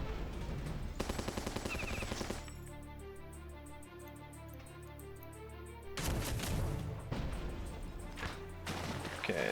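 Barrage gunfire in Battle Nations comes as bursts of rapid rattling shots with impacts, a steadier tonal stretch in the middle, then heavy crashing fire again.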